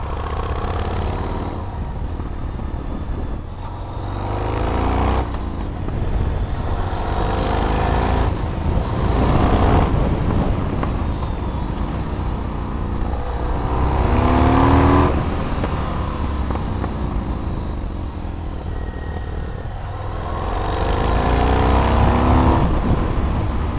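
Rider aboard a 2005 Yamaha MT-01 motorcycle, its big engine repeatedly pulling from low revs: deep, loud rumbling that surges and climbs in several waves of acceleration, with wind roar throughout and no talk.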